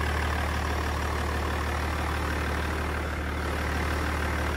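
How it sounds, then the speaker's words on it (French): A 2006 BMW E46 330 cabriolet with a 3-litre turbo engine idles close by, giving a steady, loud, even drone with no break and no talking. "Gros moteur 3 litres"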